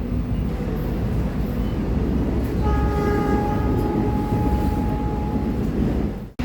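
A Parahyangan luxury-class passenger train rolls between stations, a constant loud rumble of wheels and carriage heard from inside, with a sustained horn-like tone sounding in the middle.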